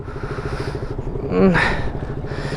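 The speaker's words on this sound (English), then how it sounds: "So I will be riding Azim's bike now, and he'll be riding my bike" A Yamaha FZ25 BS4 naked motorcycle is ridden on the street, its engine droning steadily close up under wind rush and swelling briefly as it revs.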